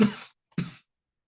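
Two quick, sharp coughs from a teacher with a slight illness, close to the microphone and separated by a short pause, followed by silence.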